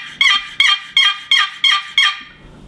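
Hand-held turkey call imitating a wild turkey, six loud, evenly spaced yelping notes in a calm rhythm, close and clear with no talking.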